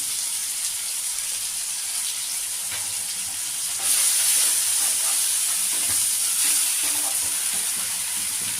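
A tomato and spice paste fries in a pan with a constant close sizzle that turns louder and brighter about halfway through, with scraping of a stirring spoon underneath and no talking.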